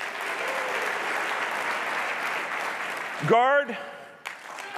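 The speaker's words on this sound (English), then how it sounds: "if you're active duty, clap your hands" A military lunch-and-learn audience claps on cue for the active-duty members, a full steady burst of hand clapping that ends abruptly. A speaker's voice rises in a short call near the end.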